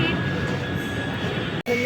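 A steady low rumble of a metro train runs throughout, with faint hum and station ambience, then a brief dropout near the end.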